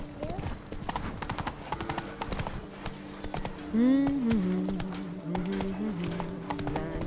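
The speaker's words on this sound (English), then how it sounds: "Run, Roach." Roach, Geralt's horse in The Witcher 3, gallops with steady clip-clop hoofbeats throughout, and a loud whinny breaks out midway, with game ambience and faint voices underneath.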